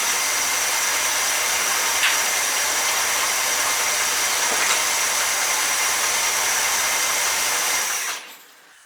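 A car engine idles with a steady, even drone for about eight seconds, then cuts off abruptly into silence.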